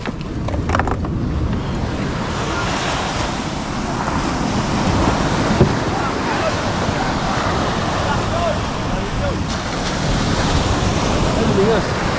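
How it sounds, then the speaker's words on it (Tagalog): Ocean surf rolls steadily onto the shore at night, a continuous broadband wash with wind noise buffeting the microphone, while people talk faintly in the background. "Alon."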